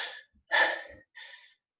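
Heavy, ragged breathing after a Tabata workout: three loud gasping breaths in and out, close to the mic, with short pauses between them and no talking.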